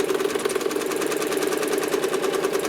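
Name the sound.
home sewing machine stitching a quilt along a curved ruler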